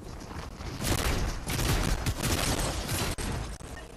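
Rapid bursts of gunfire in a Fortnite match, a dense, continuous barrage of shots filling the whole stretch with a brief drop near the end.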